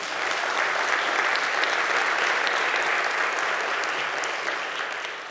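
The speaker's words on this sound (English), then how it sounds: "This man, let's clap for him." Lecture-hall audience applauding an honored student, a sustained even patter of many hands at moderate distance, tapering slightly near the end.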